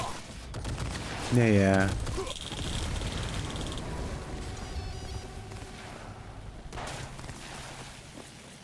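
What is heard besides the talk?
gunfire from the video game Cyberpunk 2077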